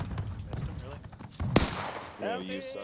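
One sharp, booming cannon shot cuts through busy game noise, with voices talking around it.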